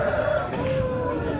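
A chicken at Tengara village market gives a short, clear rooster-like call over steady crowd and market hubbub.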